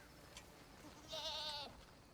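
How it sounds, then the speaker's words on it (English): A dehorned goat in the video game Crimson Desert lets out a single quavering bleat, close and clear, over faint background ambience. "A dehorned goat."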